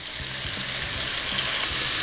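Sausage fries in a little oil in a pan, giving a steady close hiss and crackling sizzle with faint stirring scrapes and no voices.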